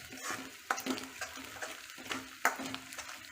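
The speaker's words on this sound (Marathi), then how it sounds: "आपला कांदा पण भाजत आलाय." Onion fries in a pan for rice vermicelli upma, faint sizzling under intermittent stirring clicks and scrapes of a utensil against the pan.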